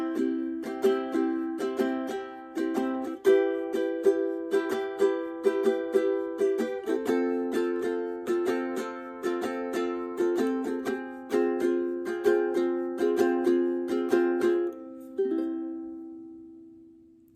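Steady strummed ukulele chords of a song repeat in an even rhythm, cycling through a simple progression before the last chord rings out and fades.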